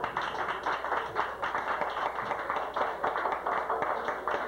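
An audience applauds a performing band at a small live show, with steady close hand clapping that holds at a moderate level for several seconds with no voices.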